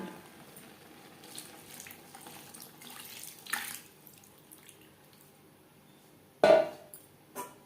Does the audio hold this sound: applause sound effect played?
no